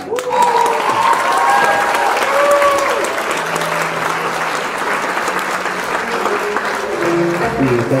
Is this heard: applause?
yes